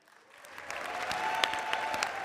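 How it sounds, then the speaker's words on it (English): An audience at an awards ceremony applauds the musicians Groove Session, the clapping swelling from near silence into a dense, steady ovation of many hands in a room. "let's applaud our musicians"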